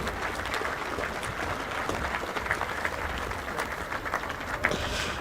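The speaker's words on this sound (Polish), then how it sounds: "Wielkie brawa dla służb pielgrzymkowych." A crowd of pilgrims applauds the pilgrimage service staff on arrival at Jasna Góra during the Łowicz youth walking pilgrimage. The clapping is dense and sustained at an even level and fills the whole stretch without pause.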